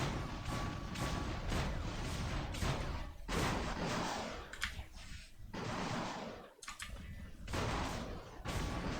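Robot weapons firing in the War Robots mobile game, a dense, continuous barrage of shots and impacts that runs almost without a break, with brief lulls and a sharp burst near the end.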